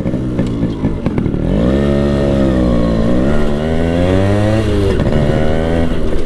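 A Yamaha RX135 motorcycle with its stock exhaust revs and pulls loudly and close while being ridden, the engine note rising and falling through the gears with no talk.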